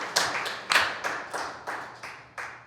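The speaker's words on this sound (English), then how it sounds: "Yes, we can clap for that." A few people at an LA City Charter Reform Commission meeting clapping briefly in a sparse, uneven run of distinct claps in a reverberant room, each slap decaying before the next.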